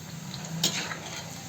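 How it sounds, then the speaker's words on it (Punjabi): Pieces of jimikand, elephant foot yam, fry in oil in a pan, a soft steady sizzle broken by one brief clink of a utensil stirring. "ਇਸ ਤਰੀਕੇ ਨਾਲ ਆਪਾਂ ਫਰਾਈ ਕਰ ਲੈਣਾ ਇਹਨੂੰ"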